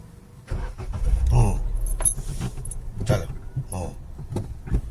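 Car keys jangling close by as a car is started during a driving lesson, followed by a short engine burst, fairly quiet with faint movement sounds around it.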